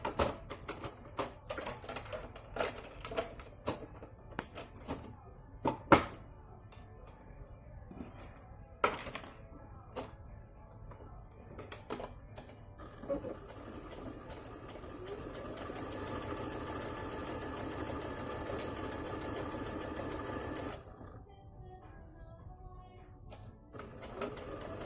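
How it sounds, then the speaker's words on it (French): A sewing machine stitches the parallel sides of a fabric face mask about 1 cm from the edge, starting with scattered taps and handling noises, then running in a steady continuous whir for several seconds before stopping. "la première étape de couture, ça va être de coudre de ce côté-ci et ce côté-ci, les deux côtés parallèles, à 1 cm du bord"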